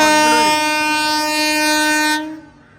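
The Mumbai CST–Mangaluru superfast train passing on the Konkan Railway near Sawantwadi Road sounds a loud, sustained horn blast close by, which cuts off sharply near the end over a low rolling rumble.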